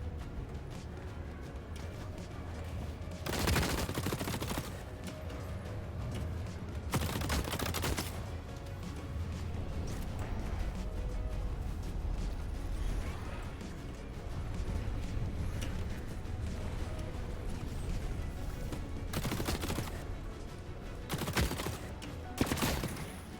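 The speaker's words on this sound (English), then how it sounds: "That was a pretty intense gunfight just because he kept running away" Gunfire during a fight in The Cycle Frontier: several sharp, loud bursts of shots at separated moments, with quieter shooting and footsteps between them over a constant game background.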